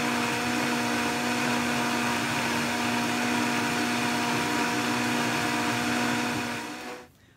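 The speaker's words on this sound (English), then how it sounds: "we're actually gonna blend this for a good minute or two" A blender whirs steadily at high speed, whipping homemade vegan plant-based butter, loud and continuous for about seven seconds before winding down and stopping at the end.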